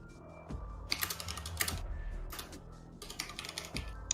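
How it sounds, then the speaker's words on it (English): Quick bursts of clacking keystrokes on a mechanical computer keyboard, close and moderately loud, come in uneven clusters with short pauses over a faint background hum. "Ah, I see you too have a mechanical keyboard."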